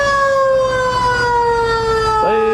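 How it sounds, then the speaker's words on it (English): A loud fire truck siren wails close by at a parade, its steady tone gliding slowly downward before a quick shift in pitch near the end. "Save your sirens."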